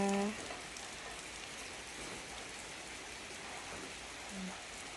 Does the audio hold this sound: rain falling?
yes